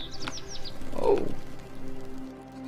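Round birds in the video game AER: Memories of Old give a few light high chirps early on, followed by a louder mid-pitched call, over a steady low ambient hum with no talking.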